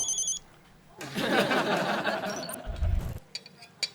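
A telephone rings in a home during a meal, a bright repeating trill at the start and again near the end, with a loud burst of clattering activity and low thumps between.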